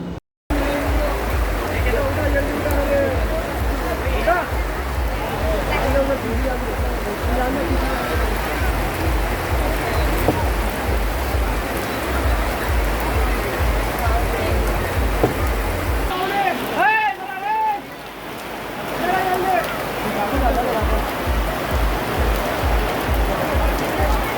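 Steady rain pours down with a constant hiss at a crowded temple fair in Karnapura, Chhatrapati Sambhajinagar, water splashing on surfaces and occasional traffic and voices faintly beneath.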